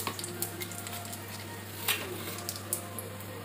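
Mustard seeds, curry leaves and dried chili sizzle in hot oil for a chutney tempering, a steady hiss with scattered pops and crackles throughout, fairly faint, with a low steady hum beneath.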